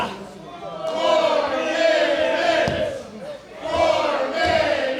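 A wrestling arena crowd at a West Coast Pro Wrestling event roars and cheers in swelling waves, a broad continuous crowd noise under loud commentary.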